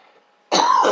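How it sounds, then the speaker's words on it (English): A single loud, harsh cough or throat-clear bursts out abruptly after a moment of near silence, close to the listener. "Sorry about the cough."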